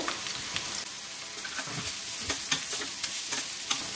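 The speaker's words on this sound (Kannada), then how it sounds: "ನಾನಿಲ್ಲಿ ಕ್ಯಾಬೇಜ್ ಹಾಕೊತಿದ್ದೀನಿ. ಎಕ್ಸ್ಟ್ರಾ ಹಾಕೊತಿದ್ದೀನಿ." Cabbage sizzling in a hot pan while a spatula stirs it, with frequent sharp scrapes and clicks over a steady frying hiss.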